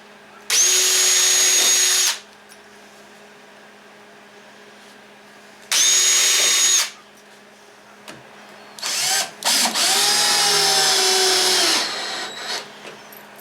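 A power drill drives 1.25-inch number 8 Phillips head screws into a wooden batten for a teardrop trailer cabinet, with three loud whirring bursts separated by quiet gaps, the last longer and uneven.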